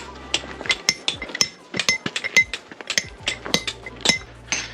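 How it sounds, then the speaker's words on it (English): Sharp metallic chisel strikes on rock as stair stones are shaped into rectangles on Everest, irregular clinks and taps close by, with several blows in quick succession. "They're just making the rocks rectangular with nothing but a chisel, just like the old times."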